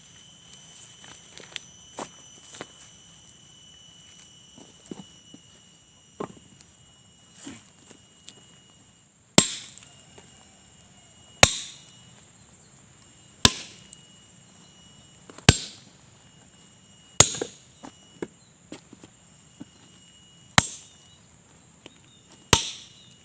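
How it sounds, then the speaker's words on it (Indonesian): Large stones broken by hand with a steel chisel and hammer, giving sharp, loud metallic strikes spaced a second or two apart, faint taps early on, then heavy regular blows over a quiet outdoor background. "kali ini kita mecah dulu yang di bawah ini teman-teman, yang sudah ada pahat sama palunya itu"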